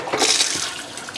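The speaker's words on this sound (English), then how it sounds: "that's the flush pedal there." An RV toilet in a 2022 Keystone Carbon 338 flushes as its foot pedal is pressed, sending a short, close rush of water into the bowl over the black tank, then fading quickly.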